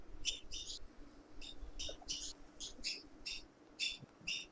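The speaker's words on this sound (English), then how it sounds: "Oh, my bird's up there." A pet bird in World of Warcraft Classic gives a faint series of about a dozen short, high chirps in an uneven rhythm over low background noise.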